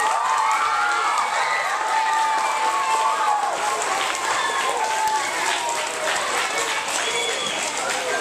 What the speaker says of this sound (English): Let's give a round of applause for peace.